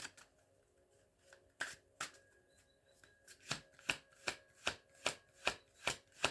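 Tarot cards are shuffled by hand. A few scattered soft taps lead into a steady rhythmic run of about a dozen crisp card slaps, close and quiet.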